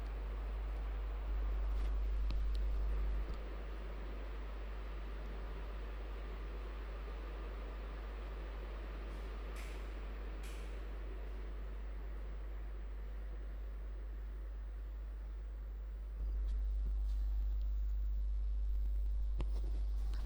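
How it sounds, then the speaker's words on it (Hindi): A running electric fan gives a steady, even whoosh of broadband noise throughout, with a low hum that swells at the start and end and a few faint clicks. "वो पंखे की आवाज थी,"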